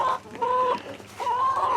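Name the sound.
chickens clucking in a chicken coop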